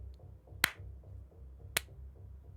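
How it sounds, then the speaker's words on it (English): Two sharp, widely spaced claps ring out over a low rumbling background in a fantasy audio drama set on a snowy late night. "And clapping starts coming from around a corner."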